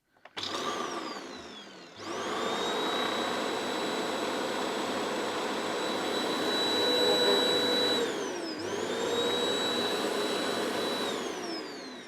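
A VAX U85-DP-Te bagless upright vacuum cleaner switches on and runs with a loud, steady whining motor hum, dipping briefly in pitch partway through before recovering, close by with nobody talking.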